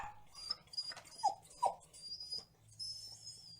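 A cartoon dog whimpers in short, high, soft whines, with a couple of brief sharper cries in the middle, close and fairly quiet.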